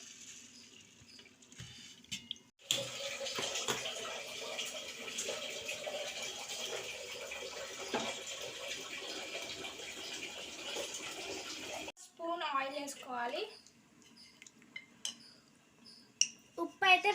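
Water pours steadily into a cooking pot of basmati rice for several seconds, a continuous splashing rush that stops abruptly, followed by quiet clinks and rustling.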